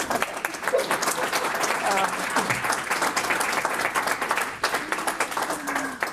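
An audience claps at a Chamber of Commerce economic forecast meeting, steady broad applause from many hands, moderately loud and continuous, with faint murmuring voices mixed in underneath.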